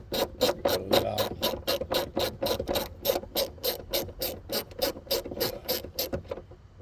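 A socket wrench ratchets steadily on a Jeep's installed fasteners, giving a close, loud series of about twenty evenly spaced clicking strokes that stop abruptly near the end.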